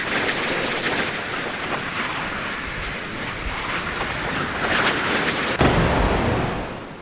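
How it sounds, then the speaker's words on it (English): Naval RAM missiles launching in pairs in the game Sea Power: a loud, continuous roaring rocket rush that swells and then gives way to a sudden sharp blast near the end. "Double firing each target again"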